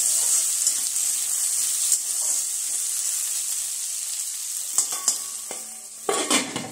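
Chopped potatoes and carrots frying in a pan give a steady, close sizzle, broken by scraping stir strokes that grow busier toward the end, with no talking.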